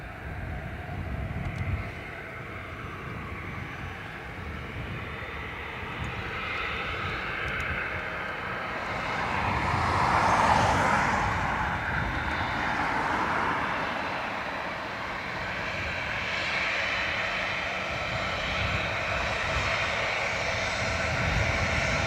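Air Transat Airbus A321 jet from Toronto passing at Dublin Airport, a steady distant engine roar that swells to a peak around the middle and then slowly fades.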